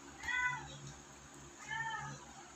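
Two clear cat meows, one drawn out after another with a short gap between them, heard close and fairly loud over a low background hum.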